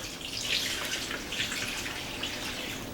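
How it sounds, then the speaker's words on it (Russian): Steady splashing of concentrated brine being poured into a container of fish for salting, a continuous close gush with no voices. "Так, сейчас заливаем. Вторая порция тузлука"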